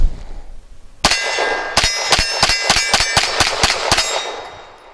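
Arsenal Strike One pistol shots ringing off steel targets at a shooting range, about nine sharp loud metallic clangs, one opening shot then a quick irregular string, with no talk.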